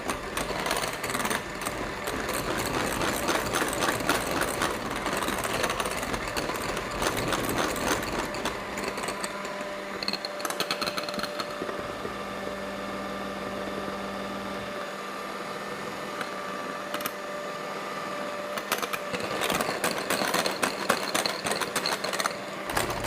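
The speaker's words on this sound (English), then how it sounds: "So now we just need that final whisk, and that will get all that sugar fully dissolved into the meringue." An electric whisk beats sugar into meringue with a steady mechanical whir, close and continuous throughout, its pitch shifting slightly as the mixture thickens.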